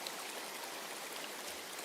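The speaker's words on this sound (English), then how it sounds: "Running water nearby. Sounds like an open space. Could be a natural spring of some kind." Steady running water from a natural spring in an open outdoor space in the video game Metaphor: ReFantazio, a constant soft trickling stream with no talk.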